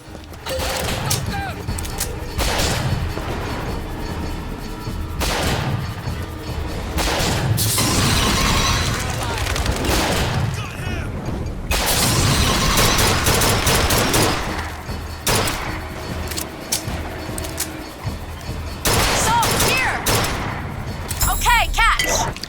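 Sniper gunfire in the Bioshock Infinite video game: sharp shots and bursts crack repeatedly through a chaotic battle, mixed with shattering and mechanical clatter, while voices speak over the fighting.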